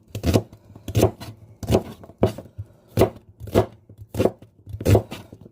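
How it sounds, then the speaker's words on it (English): A knife chops onion into strips on a board, about ten crisp, evenly spaced cuts, close and clear with no talking. "Alright, I'm going to chop up some more onion."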